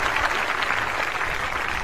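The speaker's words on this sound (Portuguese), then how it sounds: "Uma salva de palmas para as mamães." Brief applause for mothers on a Brazilian TV news broadcast, a short, even patter of clapping with no voices over it.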